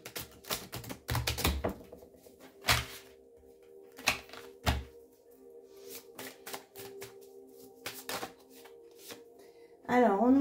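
Tarot or oracle cards being shuffled by hand for a card reading, with repeated crisp riffling bursts and soft flicks, close and fairly quiet, with a brief voice near the end.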